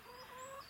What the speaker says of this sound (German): das ist mein Huhn